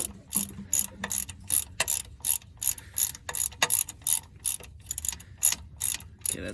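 A ratchet drives in a starter bolt on a 2002 Ford F250 Super Duty, giving a close, steady run of sharp clicking bursts, one quick pawl rattle per stroke, with brief pauses between strokes.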